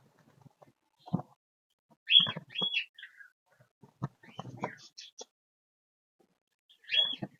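A female pet bird being handled gives a few short, sharp chirps and squeaky calls in separate bursts, close by and fairly faint, with quiet gaps and light rustling between them.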